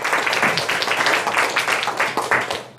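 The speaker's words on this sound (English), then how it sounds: "Round of applause" An audience applauds at the close of a talk, dense steady clapping that fills the room loudly throughout and stops abruptly at the end.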